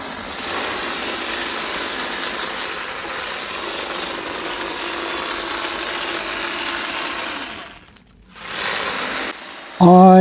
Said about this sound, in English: I can actually use the pole trimmer